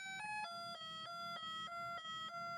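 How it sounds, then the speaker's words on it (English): Weather radio sounding its advisory siren: a loud, steady electronic tone stepping between pitches in a repeating pattern of short pulses, close and alone for the whole stretch. "This is the advisory siren."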